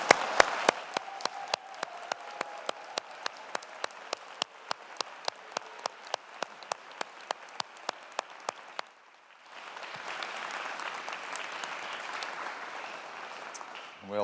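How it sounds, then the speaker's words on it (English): A graduation audience at a Strathclyde faculty of science and engineering ceremony breaks into sustained applause, dense crowd clapping with sharp individual claps near the front, swelling again toward the end. "give this collective cohort a big, rousing round of applause"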